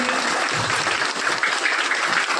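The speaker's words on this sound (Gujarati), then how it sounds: "એમને પણ જોરદાર તાળીઓથી આપણે વધાવીએ" Audience at a school event applauds a guest, loud and sustained clapping from many hands close by, an even, dense patter throughout.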